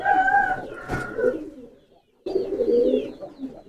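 A champion tournament pigeon coos loudly and close, two drawn-out bursts separated by a brief silence, with no talk over them.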